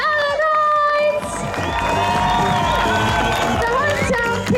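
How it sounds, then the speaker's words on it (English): A large outdoor crowd at the Red Bull Drift Pursuit on Spike Island, Ireland, cheers and whoops continuously with scattered clapping, loud and dense throughout, while an announcer speaks over the roar. "Guys, a big round of applause there"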